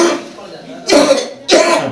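A patient coughs on request: two sharp, harsh coughs close to the microphone, about half a second apart, after a short voiced sound.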